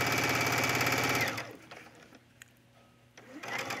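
Sewing machine stitching around a tunic collar in a fast, loud rhythmic run that stops after about a second, followed by quiet handling clicks and the motor briefly starting again.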